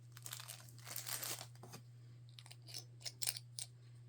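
Plastic or cellophane crinkling while assembling a DIY mini tree jar, close and faint, in scattered bursts over about four seconds with a steady low hum underneath.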